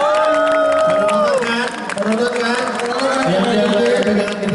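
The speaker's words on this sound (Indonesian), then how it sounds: "Tepuk tangan dong, mana nih?" A crowd at a cosplay event with a Kyoryu Sentai Zyuranger appearance claps and cheers loudly and continuously, with voices and shouts mixed densely into the applause.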